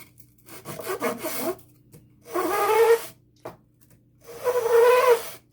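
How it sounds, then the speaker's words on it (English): A wooden phone stand is hand-sanded with rasping strokes, first in quick short passes and then in two longer bursts separated by pauses, loud and close with no talking. "A little sanding to smooth things up."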